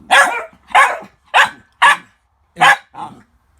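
An old dog barking in six sharp, evenly spaced bursts, close and loud, at a puppy hidden under a blanket, with a slight growly edge and short silences between barks.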